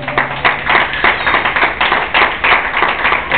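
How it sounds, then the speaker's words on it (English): A church congregation claps its hands in praise, loud rhythmic clapping in a steady, pulsing beat throughout. "clap your hands and give God some praise"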